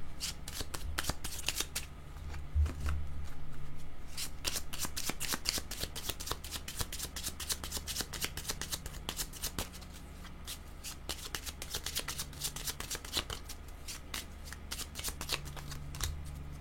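Tarot cards being shuffled by hand, a dense, steady run of crisp riffling flicks lasting throughout at close range with no talking.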